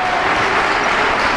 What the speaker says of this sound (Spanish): Aplaude todo el pabellón, efectivamente, Alberto.